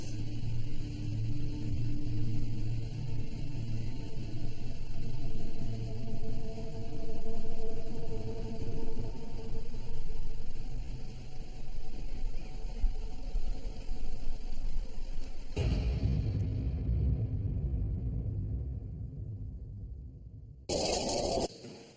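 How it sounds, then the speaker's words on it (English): Thunder during storm weather at Kasteel Doorwerth, a castle, heard as a long low rumble rolling on for about fifteen seconds, then fading into quieter noise with a sharp burst at the very end. "Is that thunder? That's thunder."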